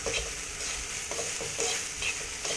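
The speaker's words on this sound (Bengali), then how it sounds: "কীভাবে ঢেঁড়স ভাজি করা লাগে দেখেন" Okra frying in oil, stirred steadily, a dense continuous sizzle broken by soft repeated scrapes of the spoon, close and fairly loud with no voices.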